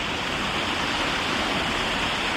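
Angel Falls in Franklin County, Maine, pours in a loud, continuous roar of rushing water heard up close. The thick, unchanging wash carries no voices.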